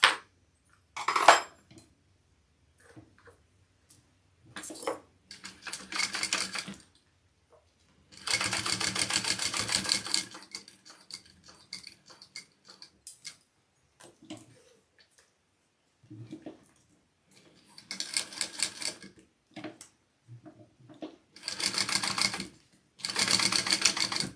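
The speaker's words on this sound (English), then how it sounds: "now I'm going to top stitch." Domestic sewing machine top stitching a mini scout bag, running in several separate bursts of rapid mechanical whirring with quiet pauses between them, close and clear with no talk.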